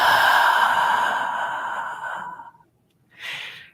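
A long, slow exhale in a quiet meditation, close and fairly loud, breathy and airy with a gradual fade over about two seconds, followed by a brief pause and a shorter soft breath.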